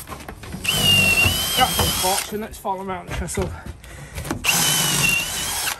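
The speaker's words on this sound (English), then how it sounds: "I'm gonna drill all them holes that I've already drilled there" Cordless power drill boring pre-marked holes through stacked timber on a large garden room roof with a canopy, whining in two long sustained runs close by, with a person talking in the pause between them.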